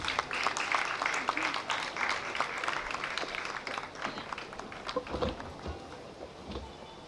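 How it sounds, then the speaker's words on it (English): Audience at a university women's week event clapping in a steady round of applause that is moderately loud and slowly fades over several seconds. "Can we give her a round of applause?"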